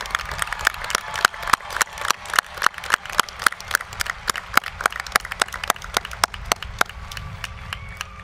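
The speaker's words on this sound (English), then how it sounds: "Please join me in a round of applause for our faculty." Audience applause for the faculty at Eastern Washington University's 2012 commencement, a dense, steady clapping from a large crowd heard alone at moderate distance, lasting the whole stretch.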